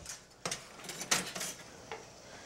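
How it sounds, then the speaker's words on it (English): A lid is set onto a pan of cooking onions and sausage, producing a few soft metallic clanks and scrapes over a faint background sizzle. "Simply put a lid on."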